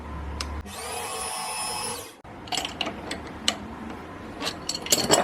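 A power drill with a 4mm spotting bit whines steadily into metal for about a second and a half, then stops, leaving scattered clicks and clanks of metal tools nearby.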